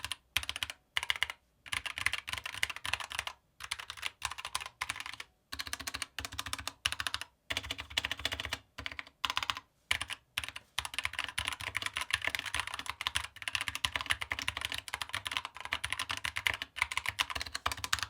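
Fast typing on a gaming mechanical keyboard in its stock, out-of-the-box state, with crisp clacking keystrokes in steady bursts and a few short pauses, close and alone.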